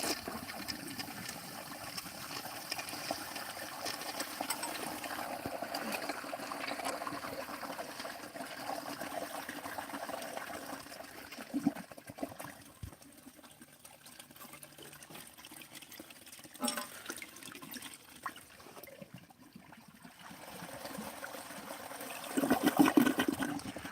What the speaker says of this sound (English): Let's flush her on a full tank.